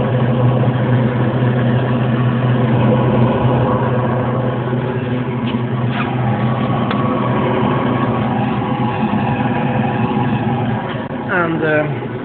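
A diesel-fired engine heater runs on a Dodge truck, its exhaust giving a steady low droning hum with a fan whirring along, continuous and close, with a few faint clicks and a brief squeak near the end.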